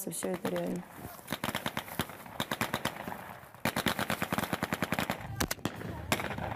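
Bursts of rapid blank-cartridge gunfire from a Russian military exercise crackle in quick automatic strings with pauses between them. Voices shout faintly underneath at the start.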